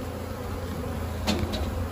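Honeybees buzzing at an opened hive during an early-season February inspection, a steady low drone close by with a couple of brief knocks or scrapes partway through.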